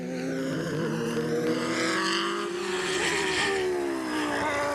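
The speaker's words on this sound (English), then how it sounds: "I've got the F3000 car. It's a Reynard with a Cosworth AC engine." Reynard F3000 race car with a Cosworth AC engine, at a 1998 Irish Super Prix, screams loudly and continuously, its engine pitch sweeping up and down through gear changes with no talk over it.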